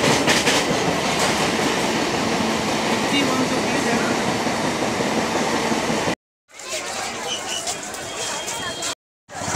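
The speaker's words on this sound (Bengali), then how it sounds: "আমরা এখন ট্রেনে উঠে বসেছি" Inside a moving passenger train on a suburban line toward Baruipur Junction, a loud steady roar of wheels and rattling carriage fills the space, broken by two brief silent cuts before the rumble resumes.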